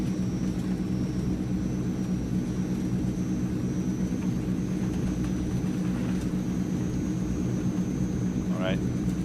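Transall C160 aircraft engines in Microsoft Flight Simulator, a dense steady turboprop roar holding constant throughout, close and loud, with a brief chirp near the end.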